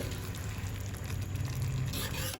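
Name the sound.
dish boiling in pan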